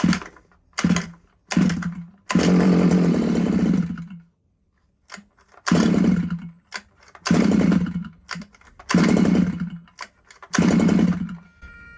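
The small petrol engine of a Losi 5iveT RC car, choke on and freshly primed, fires in repeated loud buzzing bursts of a second or more, broken by short silences, close up.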